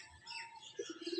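Pigeons coo softly inside their loft, faint low throaty calls building toward the end over quiet background chirps, with no talking.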